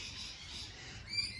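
Noisy birds squawk around a home verandah with potted houseplants, a faint, harsh, continuous chatter at a distance with one slightly louder call near the end.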